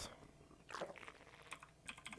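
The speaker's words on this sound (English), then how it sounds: "While I'm spamming my keyboard, my mouse can be doing the injects." A computer keyboard is spammed rapidly during a Zerg StarCraft match, with quick, quiet clicks bunched into short bursts.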